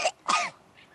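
A brief pair of throaty coughs or throat-clearing sounds, close and fairly soft, followed by a faint trailing breath.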